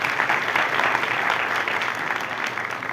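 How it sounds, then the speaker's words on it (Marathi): A crowd applauds a speaker with dense, sustained clapping that stays strong for about three seconds and eases slightly at the end. "त्यासाठी तुमच्यासाठी एकदा खूप जोरदार टाळ्या झाल्या पाहिजे"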